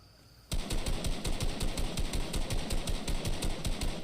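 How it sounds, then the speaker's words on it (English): Rapid, distorted automatic gunfire from the Fortnite video game bursts in after half a second of quiet and hammers on in a fast, steady, harsh rhythm for the rest of the clip, loud and close. "the audio gets super distorted"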